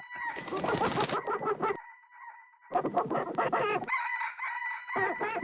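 A rooster crows loudly nearby several times, long drawn-out calls with short pauses between, alongside chicken clucking.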